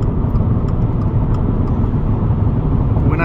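A 2022 Subaru WRX on a test drive, its engine droning steadily at high revs as a loud, constant roar with road and wind noise, no gear changes or breaks.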